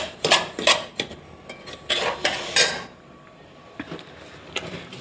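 A spoon scrapes and clinks against a metal pan as semolina is stirred over a low flame, in bursts of quick strokes with pauses between, close and moderately loud.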